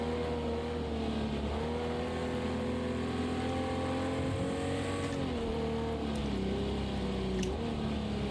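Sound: Jaguar E-Type engine revving in Project Cars 2 video game

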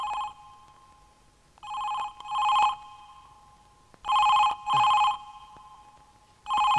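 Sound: telephone ringing in a film scene

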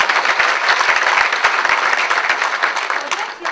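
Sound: audience applause at a lecture

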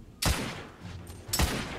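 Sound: gunfire in video game The Order: 1886

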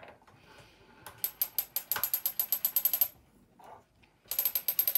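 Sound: weaving loom ratchet winding the warp forward

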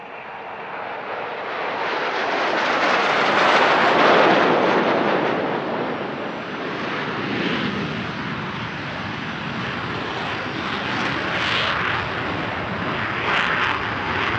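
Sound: Patrouille de France jet aircraft taxiing

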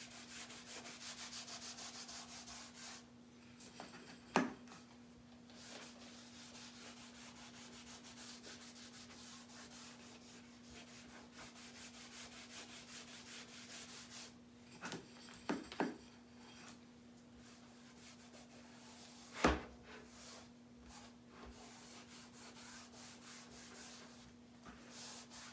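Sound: rubbing stain or dark wax onto wooden pumpkin cutouts

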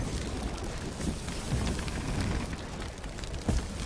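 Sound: rain in a video game

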